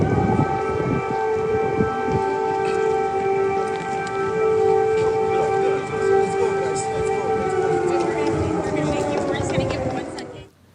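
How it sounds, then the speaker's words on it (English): Air raid sirens wail across Ukraine in long sustained tones that hold steady for about ten seconds and then fade out. Distant crowd murmur and traffic noise sit faintly underneath. "Air sirens were sounded at that moment."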